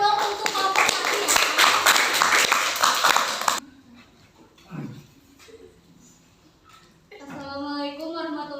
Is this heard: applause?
yes